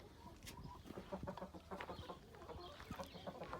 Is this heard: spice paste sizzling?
no